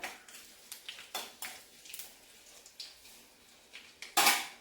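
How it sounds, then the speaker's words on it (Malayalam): Mustard seeds pop and crackle in hot oil while a Kerala-style lemon pickle is prepared; sparse sharp pops scatter through the clip, ending in one louder, denser burst, with no talking. "അപ്പം നമ്മുടെ കടുകൊന്ന് പൊട്ടട്ടെ"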